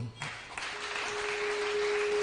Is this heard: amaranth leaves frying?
no